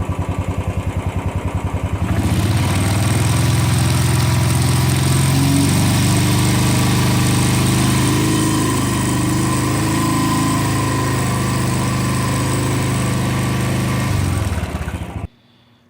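A Royal Enfield 500 single-cylinder motorcycle engine rises from a low idle to a steady high idle, a loud, even, close-up thump that holds for over ten seconds and then cuts off abruptly, with no talking.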